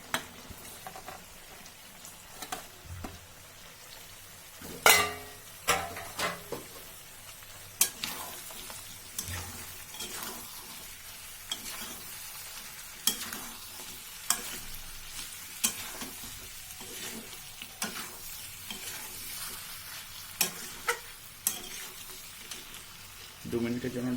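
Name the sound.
onions, green chillies and capsicum frying in a kadai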